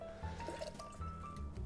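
Sugar syrup poured from a measure into a cocktail glass for a Bramble, a short, soft, continuous trickling stream heard close up and alone.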